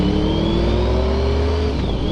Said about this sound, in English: Oh, that bike sounds really good.